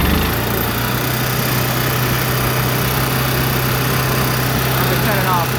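A Fleetwood Storm motorhome's onboard generator starts and settles into a steady, loud engine drone with a low hum that runs without a break, close by.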